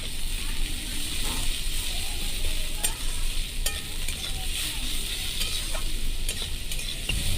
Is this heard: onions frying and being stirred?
yes